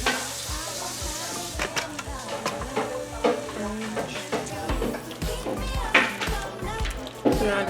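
Scallops sizzle and fry in a pan of butter and tomato sauce over medium heat, a steady crackle broken by repeated spoon taps and stirring scrapes, close and fairly loud.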